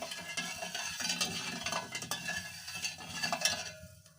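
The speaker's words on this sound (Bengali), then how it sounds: "কিছুক্ষণ নেড়ে নেড়ে নিব যাতে তলে না লেগে যায়" Sugar syrup at a boil in a pan is stirred steadily, a utensil scraping and clinking against the pan bottom over a soft bubbling sizzle, close and moderately quiet.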